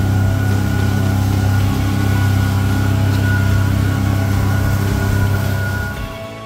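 A MacGregor 26M sailboat's outboard motor drones steadily and loudly while under way, a constant low hum with a strong tonal core that eases off slightly at the very end.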